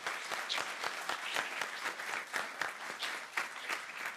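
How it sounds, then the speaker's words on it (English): A debate audience claps in steady, sustained applause, a dense patter of many hands heard from a moderate distance. "Can everyone give our debate participants a round of applause?"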